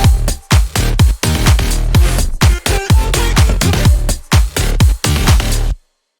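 Electronic outro drop with a chopped vocal lead carrying the melody over pumping bass and punchy kicks in a steady dance rhythm, loud and dense, stopping abruptly near the end.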